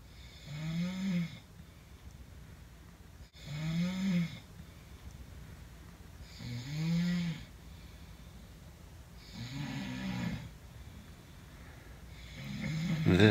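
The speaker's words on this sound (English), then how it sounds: "Super Snoring Edition." A person snores in slow, regular cycles, with about five deep, rasping snores spaced a few seconds apart and quieter breathing between them.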